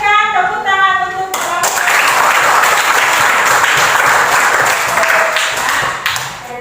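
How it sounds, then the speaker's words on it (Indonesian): Classroom applause for a student group's presentation, a dense run of hand clapping from the class that carries on for several seconds after a brief spoken announcement, with children's voices mixed in. "Silakan berikan tepuk tangan untuk"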